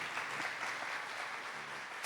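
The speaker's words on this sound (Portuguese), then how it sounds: "Salva de palmas para ele." A crowd claps steadily in a dense, even patter of applause, heard at a moderate distance.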